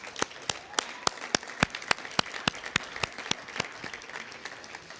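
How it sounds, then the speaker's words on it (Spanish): A church congregation claps during a worship service, the applause close and fairly sparse, with distinct individual claps rising over a softer background patter. "Dale un aplauso al Señor Jesucristo."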